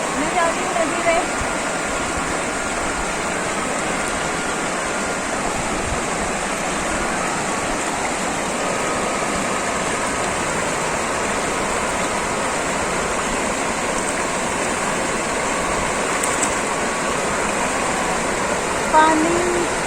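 A mountain river running over slippery stones, a broad, steady rushing wash of water that stays loud and constant throughout.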